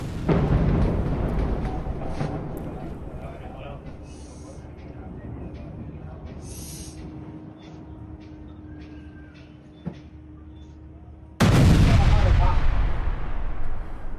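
Heavy, booming blasts and rumbling roar from an air strike in the Nabatieh area, with a sudden loud burst near the end against a steady noisy background.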